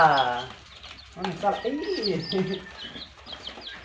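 Turkey chicks peep in a high, rapid cluster at the start, then someone talks over fainter chirping in a home setting where the chicks are being fed.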